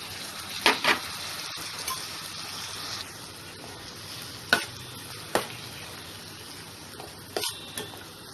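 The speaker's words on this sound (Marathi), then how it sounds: "आपण यामध्ये टाकळा चांगला परतवून घेतलेला आहे" Boiled takla greens and chana dal are sautéed in a pan, with a spatula scraping and clacking at irregular intervals over a quiet, low sizzle.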